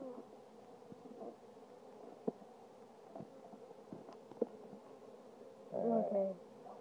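Package honeybees lifting into flight during hive installation give a faint, diffuse buzzing hum with a brief louder swell near the end, under occasional knocks and handling noises.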